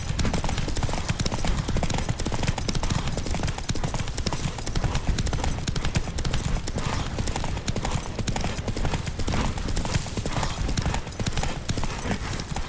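Rapid hoofbeats pound continuously as a horse gallops at full speed in a race in The Witcher 3, loud and close, with a rushing noisy backdrop.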